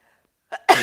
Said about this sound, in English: Going to sneeze again.